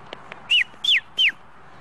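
Three short, bright whistle notes, each a quick downward slide, evenly spaced and fairly close, with soft background noise between them.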